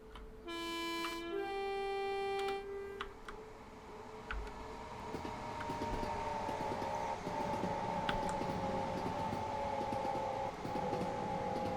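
An Electrostar train in Train Sim World 2 approaches and rolls past, opening with a sustained horn blast and then a steady, loud rumble of wheels and motors that holds to the end.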